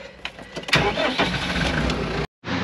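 A farm tractor in a raspberry field runs with its PTO shaft engaged, giving a rough mid-pitched engine rumble that swells and clatters, cuts out abruptly for a moment, then resumes.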